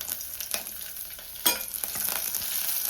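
Grated garlic and ginger fry in hot oil in a pan for a Telugu vegetable curry. A steady close sizzle runs throughout, with scraping stir strokes and a sharper clatter near the middle. No one speaks.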